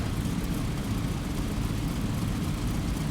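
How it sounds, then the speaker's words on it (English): A P-47 Thunderbolt's piston engine drones in the DCS flight simulator, a loud, constant low rumbling roar with no break and no voices. "plane sounds really good"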